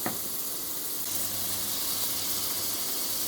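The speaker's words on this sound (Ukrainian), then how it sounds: "я вливаю пів стакана томатного соку" Tomato juice poured into a pan where meat and carrot fry in oil, giving a loud broad hiss of steam and sizzle that stays steady.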